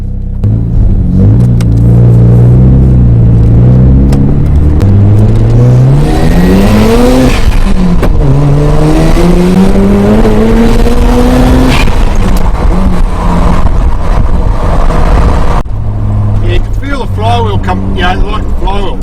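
Rotary engine of a 1996 Mazda RX-7 FD3S with a FEED widebody kit, pulling hard under boost with a loud, rising whine that climbs in pitch through the revs, then eases off. A voice talks over it throughout.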